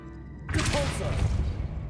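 Casting Depulso in Hogwarts Legacy gives a sharp magical blast that lands abruptly after quiet, with a bright swishing shimmer and a rumbling body that carries steadily to the end of the moment, unaccompanied by speech.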